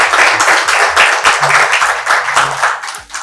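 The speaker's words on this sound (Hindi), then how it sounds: "तो मैं चाहूँगा कि उनके लिए ज़ोरदार तालियां होनी" An audience at a Father's Day mushaira, an Urdu poetry gathering, bursts into loud, close applause, with dense clapping pulsing in quick waves that carry steadily through the moment before easing off.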